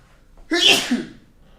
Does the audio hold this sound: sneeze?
yes